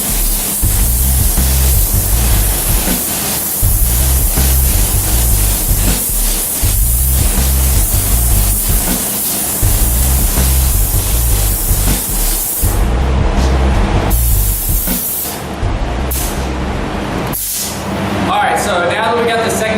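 A spray gun applies a metallic color-shift coat to a lift kit with a loud, continuous airy hiss that breaks off briefly a few times, over a steady rhythmic low beat.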